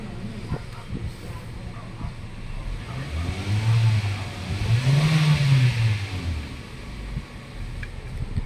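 A Kia Rio engine runs after a crankshaft sensor repair, a steady close idle that swells into two short revs midway before settling back, with voices talking over it.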